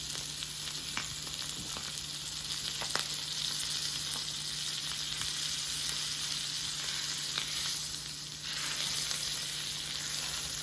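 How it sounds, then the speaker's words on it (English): Salmon fillets searing in a hot pan while being basted, a dense steady sizzle and crackle with occasional spatter pops, close and continuous, no speech. "you want to baste it while it's searing"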